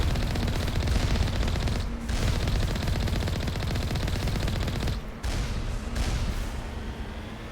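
Hacked automated turrets blaze away in Mass Effect, a dense, continuous stream of rapid gunfire with only brief gaps near the start and middle, loud and close throughout with no voices.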